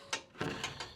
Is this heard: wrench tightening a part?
yes